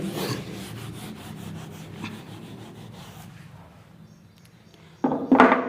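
A steady dry rubbing, like a board eraser scraping across a surface, continues for a few seconds, fades, then two louder brisk rubs close by.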